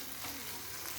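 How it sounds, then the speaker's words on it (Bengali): An egg frying in a hot pan while being stirred gives a continuous, close sizzling hiss for a brief moment. "এভাবে কিন্তু একটু নেড়ে চেড়ে নেব"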